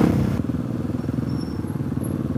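Motorcycles and scooters riding past in dense Monaco traffic, a close, rough engine rumble with pulsing clatter that stays fairly loud, with no talk over it.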